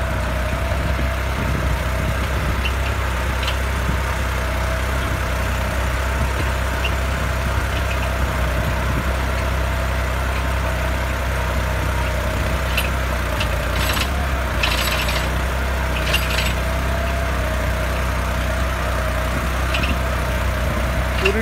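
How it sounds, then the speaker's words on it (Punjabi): A New Holland 3630 tractor's engine runs steadily at low rpm, about 1000 revolutions, while chisel-ploughing a field: a continuous, even diesel drone close by with faint brief clicks, and no talking. "ਸਿਰਫ 1000 ਚੱਕਰ 'ਤੇ ਚੱਲ ਰਿਹਾ ਟਰੈਕਟਰ"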